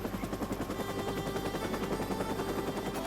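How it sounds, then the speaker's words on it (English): Huey helicopter rotor giving a deep, rapid thumping beat, fairly faint and steady, with a low continuous rumble under the repeating whop of the blades and no speech. "that sort of deep, thumping, whop, whop, whop sound, that's the sound of a Huey helicopter"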